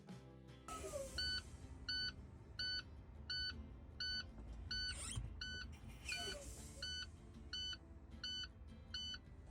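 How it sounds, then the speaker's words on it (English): A low air pressure warning buzzer on a truck's brake gauges sounds in a steady repeating pattern of short electronic beeps, regular pulses roughly every half second, inside a cab with low engine rumble beneath. "Once the light comes on and the buzzes sound on both gauges"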